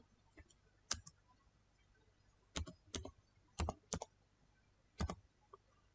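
Typing on a computer keyboard at a Windows 10 PC: short, quiet clusters of crisp key clicks separated by pauses, close and otherwise near silent.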